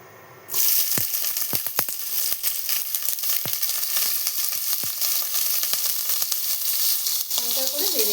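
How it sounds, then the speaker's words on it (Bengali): Onion, green and red chillies and garlic cloves frying in hot oil in a pan, a loud steady sizzle starting abruptly and running throughout, with scattered sharp clicks of a spatula against the pan. "এটা হালকা করে তেলের মধ্যে ভেজে নেব"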